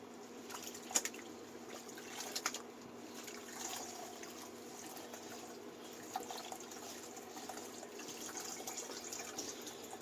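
Homebrewed ginger NEIPA wort being whirlpooled in the kettle, a steady soft swirl of liquid with occasional faint clinks, fairly quiet and without talk.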